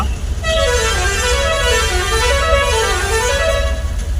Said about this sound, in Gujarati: ફૂલ ટ્રાફિક છે હમામી ગાડી હમામી ગાડી જાય